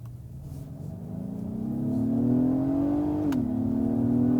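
2022 Acura MDX V6 engine revving up from inside the car, a steady rising drone that dips briefly as a gear changes, then climbs again, moderately loud and with no talk.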